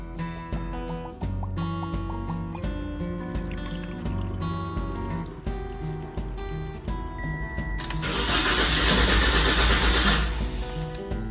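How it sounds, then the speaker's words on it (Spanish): A used Toyota Corolla with a new battery and fresh fluids, its engine cranking repeatedly without catching, a rhythmic whirring churn that builds into a louder, harsher grinding toward the end, with no voices. "El mecánico intentó encender el auto después de cambiar los fluidos y poner una batería nueva"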